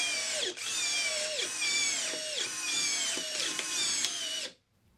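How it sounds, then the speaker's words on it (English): A DCK 12 volt brushless drill drives small fasteners in quick successive bursts, its motor whining up and dipping under load with each screw, loud and close, then stopping abruptly. "Let's start by checking the speed with some small fasteners"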